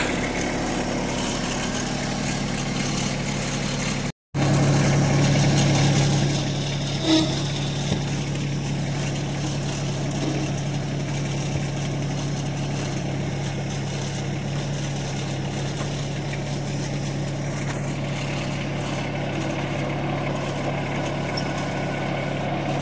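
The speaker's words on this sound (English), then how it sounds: "Let's go for a little tractor ride." A tractor engine runs steadily throughout a ride, a loud, continuous low drone with a brief cutout near the start, then an unbroken rumble with faint rattles and no talking.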